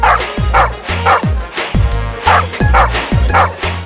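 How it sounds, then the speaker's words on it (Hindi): A dog barks repeatedly in a steady rhythm, loud and close, with short yips between the barks. "भौंक क्या रहा है?"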